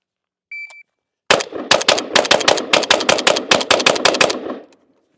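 A JRA Gallant Galil ARM rifle fires 15 rounds in a fast, steady string of loud, close, sharp cracks. A brief electronic beep sounds just before the first shot.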